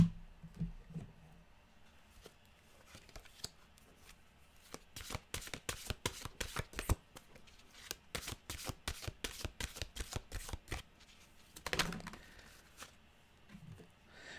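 Mantra cards are shuffled in a long run of rapid, crisp riffling snaps, close and fairly quiet, followed by a brief shuffle as a card is drawn, with no voice over it.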